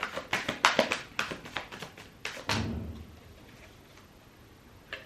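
An indoor door slams with a single loud thud, preceded by a run of quick, light ticking taps, then the room falls quiet with only a faint tap afterward.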